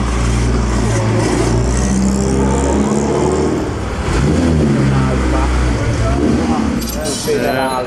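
A Ferrari racing car roars past during the Mille Miglia road race, its engine loud and close with a rising and falling rev, while spectators talk over it.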